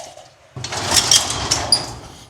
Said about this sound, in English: Let's get this door latched.